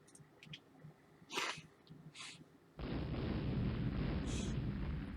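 Naval gunfire against the battleship Invincible in the Rule the Waves naval strategy game: faint scattered booms and puffs, then a loud, sustained broadband roar of heavy firing that fills the rest of the clip.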